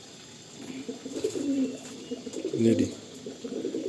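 A pet pigeon of a costly home-bred line coos softly nearby, low throaty burbling calls repeating under quiet talk by a man.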